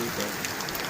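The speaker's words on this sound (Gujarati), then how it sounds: "વરસાદ ચાલુ થઈ ગયો" Rain pours steadily over a village, a dense, even hiss of drops that fills the whole moment without pause, close and fairly loud.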